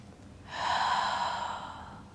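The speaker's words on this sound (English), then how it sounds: "Deep breath in." A single slow, deep inhale through the nose during a mat Pilates hip flow, soft and close, rising quickly and sustained for over a second with no talking.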